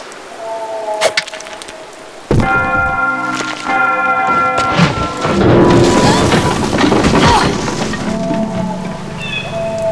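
Bells crashing down in Tomb Raider 5, starting with scattered knocks, then a loud clanging impact of ringing metallic tones that rattle and settle into a sustained, fading clangour.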